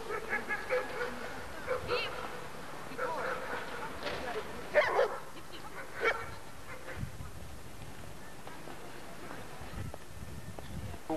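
German Shepherd dogs bark in scattered bursts at an outdoor dog show in a Leningrad stadium, the barking fairly distant, mixed with crowd noise and voices talking.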